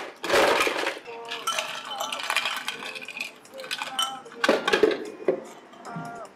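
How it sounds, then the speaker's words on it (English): Ice cubes clink and rattle into a cocktail glass at a bar in Anjuna, bright clattering bursts near the mic, with talk underneath. "So take your glass, add some ice."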